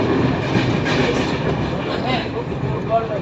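Shalimar–Puri Dhauli Express rolling along the rails, a steady, loud rumble with rhythmic wheel clatter filling the whole stretch, with no other sounds standing out.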